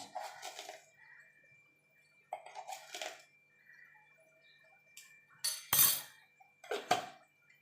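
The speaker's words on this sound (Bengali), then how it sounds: "এখানে একটা আমি বাটি নিয়ে নিয়েছি এবার বাটির মধ্যে দিয়ে দেবো গোটা জিরে দু চামচ" Whole cumin seeds spooned into a bowl for a traditional Bengali oil koi fish masala, heard as several separate clinking, rattling bursts of a spoon against the bowl with quiet gaps between them.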